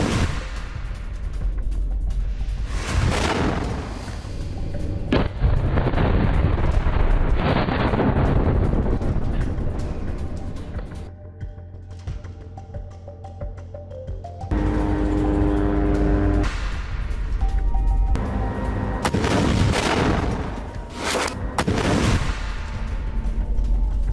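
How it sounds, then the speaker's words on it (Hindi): Gunfire and explosions from a Hamas RPG ambush on an Israeli tank in Gaza, with loud booms and bursts of shots rolling across the clip, a brief lull midway, then heavy blasts again; no talking. "हमास के लड़ाकों ने आरपीजी से टैंक को उड़ा दिया।"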